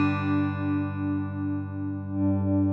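A Squier Classic Vibe Starcaster electric guitar with a piezo bridge pickup, run through an impulse response, rings out one sustained note with a gentle wavering pulse and a distorted, effected tone, and no talking.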